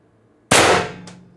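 A single sharp crack from an X-68 Punisher airgun with a stainless steel barrel and 7.5-inch extension, charged to 1000 psi, bursting loud and close out of silence, then trailing off in a short decaying ring.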